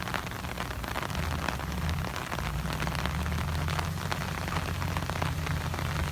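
Rain falls steadily in a dense, even hiss with a low rumble beneath, continuous throughout and without voices.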